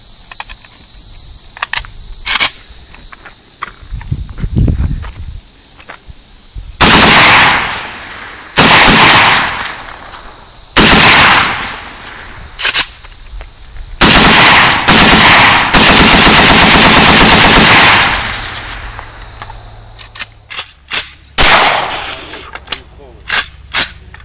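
Draco rifle bump firing a full 30-round magazine outdoors, with a few single shots and then several long, very loud bursts of rapid fire close by, followed by scattered final shots. Voices are heard around the shooting.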